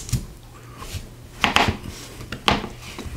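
A knife cuts through potatoes on a cutting board, making a few distinct close thuds and scrapes against the board with quiet pauses between them.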